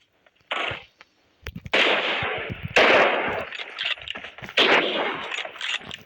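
Gunfire in a video game, heard as bursts of loud rapid shots in several dense volleys separated by short gaps, close and harsh, with no talking.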